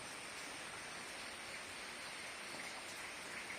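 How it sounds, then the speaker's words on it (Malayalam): Steady rain falls, a soft, even hiss throughout with no voices, faint and somewhat distant. "മഴയല്ലേ ഇന്ന് നല്ല മഴ ദിവസം കണ്ടാ"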